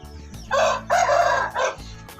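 Three loud, close turkey calls in quick succession, warbling bursts with short pauses between them.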